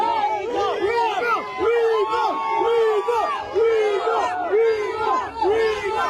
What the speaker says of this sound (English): The crowd is making their noise, and that is how they are currently feeling.